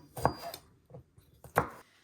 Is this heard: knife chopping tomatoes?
yes